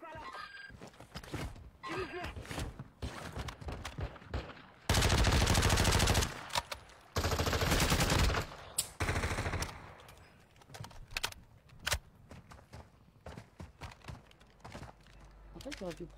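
Bursts of automatic gunfire in a shooter video game, with loud sustained volleys and scattered single shots amid game effects, while players talk over the action.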